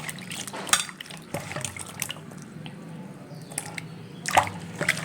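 Cut pieces of elephant foot yam being washed by hand in water in a kitchen, with soft sloshing, drips and occasional clinks of a vessel, close and fairly quiet.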